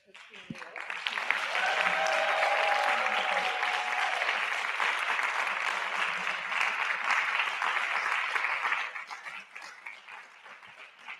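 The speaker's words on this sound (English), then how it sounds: "let's have another round of applause for Christine Yvette" Audience applause at a talk on the politics and praxis of care, swelling quickly into a sustained round of clapping that holds for several seconds, then thins and fades toward the end.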